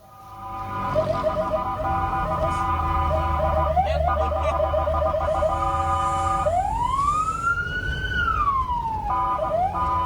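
Indonesian fire truck siren in Majalengka, West Java, wailing loud and close as the truck rushes to a fire, with a steady yelp pattern that shifts into a long rising-and-falling wail; engine rumble runs underneath.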